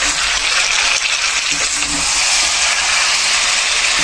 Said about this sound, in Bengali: এখন ভাজা চিকেন।